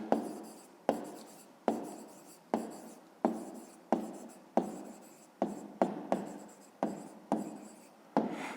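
A pen scratches across notebook paper while working a fifth-grade math exercise, in about a dozen repeated strokes, each starting sharply and fading, close and fairly quiet.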